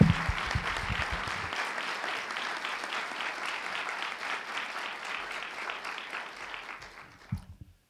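Sustained audience applause at a university lecture welcoming a French ambassador, a dense even clapping from a crowded hall that holds steady for several seconds and then tapers off.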